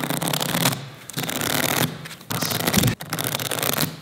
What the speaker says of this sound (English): Shuffle the resource cards.